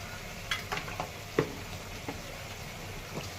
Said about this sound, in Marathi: थोडस छान मसाला परतून घ्यायचं तेल सुटेपर्यंत